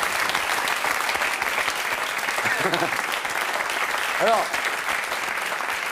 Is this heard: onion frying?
no